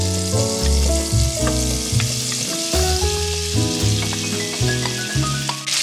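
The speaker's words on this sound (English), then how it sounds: "I'm gonna add a couple of tablespoons of butter to a hot skillet." Potatoes fry in butter in a hot skillet, giving a steady broadband sizzle that runs the whole time beneath prominent background music.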